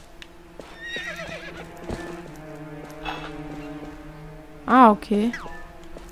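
Horse in Zelda: Twilight Princess, with a loud whinny near the end over steady game music and background hoofbeats, while a person briefly talks.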